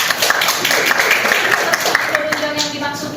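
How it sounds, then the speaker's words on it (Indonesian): Audience applause at a lecture-style teaching session, a dense steady patter of many hands clapping for about three seconds with talk over it. "Oke, tepuk tangan lagi ya."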